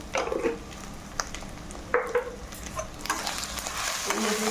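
Goat trotters frying with turmeric and salt in a pan, a soft sizzle broken by several spoon scrapes and stirs, the frying hiss swelling louder toward the end, no voices.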